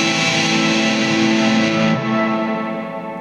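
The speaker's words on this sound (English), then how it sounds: "the guitar itself is the big muff is a fuzz, so it fuzzes up the sound." A sustained electric guitar chord runs through a Big Muff fuzz pedal and reverb, thick and distorted with clean overtones, holding steady before shifting slightly and fading out.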